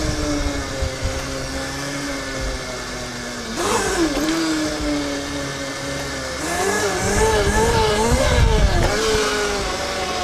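A 13 kW TruMoto RTR electric pit bike rides on stock knobby pit bike tires, its motor whine rising and falling in pitch as it accelerates, over steady road and wind rumble.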